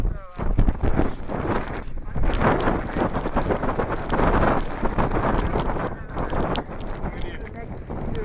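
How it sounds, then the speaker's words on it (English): Strong gusty wind on Mount Shasta buffeting the microphone, a continuous loud roar with rumbling low end throughout. "It's just too windy"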